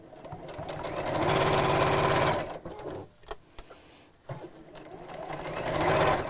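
A sewing machine stitches a seam on a round bamboo-handle bag in a fast, steady run, pauses with a few clicks and handling sounds, then starts up again near the end.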